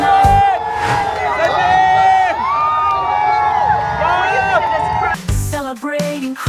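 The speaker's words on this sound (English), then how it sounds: "the crowd erupts" A large crowd cheers and shouts loudly for cricket legend Sachin Tendulkar at a night event, with whoops and excited voices throughout and a burst of louder cheering near the end.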